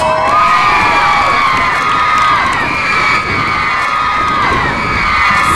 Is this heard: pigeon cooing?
no